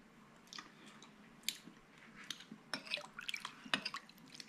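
Close, wet chewing and crunching of a cucumber and carrot salad, with soft irregular bites and squishes building in the second half, no talking.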